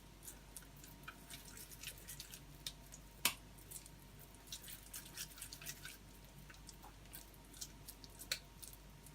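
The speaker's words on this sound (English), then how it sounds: "just get a portion in your hand, roll them around" Hands rolling turkey mince into meatballs make soft, wet squishing and sticky patting sounds, faint and close, in irregular small bursts over a quiet background.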